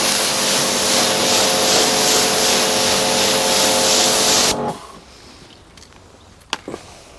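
Water sprayed onto a car panel during detailing, a loud steady hiss lasting about four and a half seconds before cutting off, followed by a few faint handling noises.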